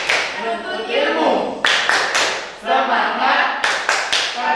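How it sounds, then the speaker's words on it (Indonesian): A seated audience joins in the patterned 'tepuk semangat' clap chant at an Islamic class discussion, with sharp, loud synchronized bursts of hand claps in short rhythmic groups alternating with a leading voice calling out the chant. "kita tepuk semangat dulu ya"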